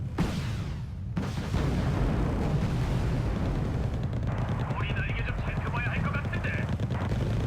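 Helicopters and explosions in Wargame Red Dragon, with a dense barrage of booms and rumbling gunfire over a steady rotor chatter and a whining tone in the second half; a voice talks over it.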